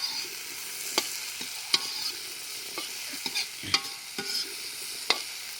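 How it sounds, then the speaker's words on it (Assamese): Pulses, potatoes and eggplant frying in a pan, a soft continuous sizzle broken by sharp clinks and scrapes of stirring at irregular moments, close and without talk. "গুটি আৰু আলু আৰু বেঙেনা ফ্ৰাই কৰি আছে।"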